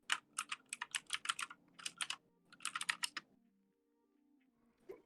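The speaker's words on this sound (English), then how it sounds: "Listen to that clicky keyboard satisfaction, folks." Rapid bursts of keystrokes on a clicky mechanical computer keyboard, typed in quick runs with short pauses, close and crisp, with no talking.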